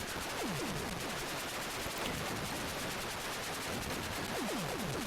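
Rapid, continuous shooting and blasts from the Atari 8-bit game Warhawk, a dense electronic barrage with repeated descending zaps over a steady wash of noise, loud throughout with no voices.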